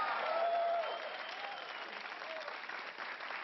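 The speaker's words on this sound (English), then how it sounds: "Oh, a round of applause." A brief burst of audience applause, steady clapping that fades slightly after the first second.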